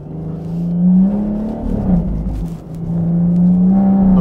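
BMW M140i tuned to 550 hp accelerating hard from inside the cabin, its loud engine drone rising through gears with a brief dip and shift near the middle before climbing again steadily.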